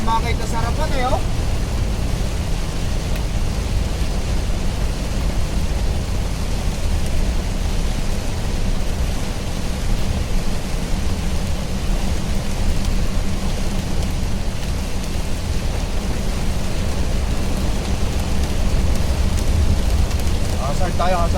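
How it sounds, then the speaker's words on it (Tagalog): A heavy downpour pounds a truck on the road, a thick, unbroken wash of rain and rumble lasting the whole stretch, with faint voices at the very beginning and end. "Malakas na ulan ito guys."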